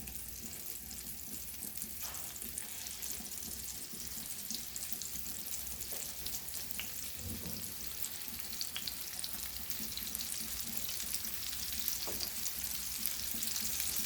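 Silver bar fish coated in rava sizzles and crackles steadily in a frying pan, a continuous close hiss with faint scattered pops and no talking.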